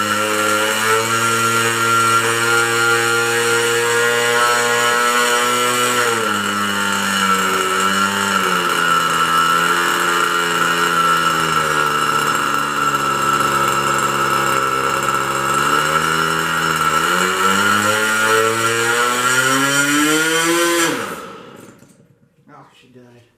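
A GMS 2000 .47 two-stroke nitro model engine runs steadily at low throttle with a loud, buzzing whine that wavers slightly in pitch, then cuts out abruptly as it dies near the end.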